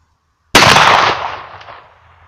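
A single 12-gauge shotgun blast from the lower barrel cracks sharply and loudly out of silence, then decays over about a second and a half into a fading outdoor echo.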